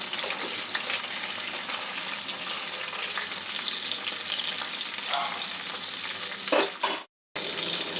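Tilapia fish fries in a pan of oil, being flipped to brown on both sides, giving a loud, even sizzle with crackles that runs continuously before a brief clatter and an abrupt moment of silence near the end.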